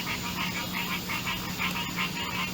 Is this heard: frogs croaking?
yes